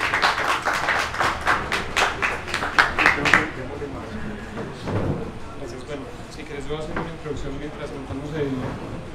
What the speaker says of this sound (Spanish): un aplauso por ustedes